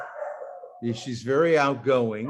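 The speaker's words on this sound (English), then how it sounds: "that's our dog, by the way." A household dog gives a brief, drawn-out bark or whine at the start, then a person begins talking over it.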